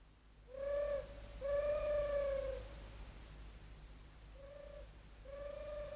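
A cartoon bird calls in four hooting, cooing notes, alternately short and drawn out, moderately near, with pauses between them and a quiet background.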